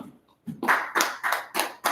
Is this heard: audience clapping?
yes